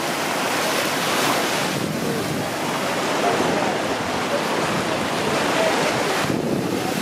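Surf washes steadily onto a beach with dirty water, a dense continuous roar mixed with gusty wind buffeting the microphone, loud and close with no clear breaks.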